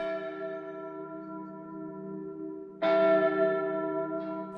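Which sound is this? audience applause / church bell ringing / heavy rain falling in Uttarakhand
church bell ringing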